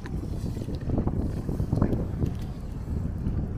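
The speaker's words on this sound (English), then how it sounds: "You see, it's becoming windy." Gusty wind buffeting the microphone on an Indian Ocean beach in Kwale, Kenya, a rough continuous low roar rising and falling over a few seconds, with no talk.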